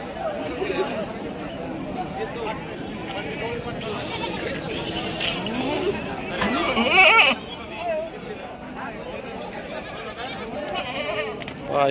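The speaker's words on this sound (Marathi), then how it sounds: "हा इकडे चांगल्या क्वालिटीच्या शेळ्या आहेत." Goats bleating among the crowd at the Shirur goat and sheep market, several loud nearby bleats over a steady murmur of the crowd, with people talking throughout.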